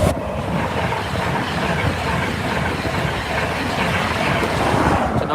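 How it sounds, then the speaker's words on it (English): A London North Eastern Railway train, Class 91 locomotive 91-1032 paired with driving van 82-215, rumbles loudly past a Lincolnshire level crossing, a sustained close roar of wheels and rails with no talk. "And there's a train coming now."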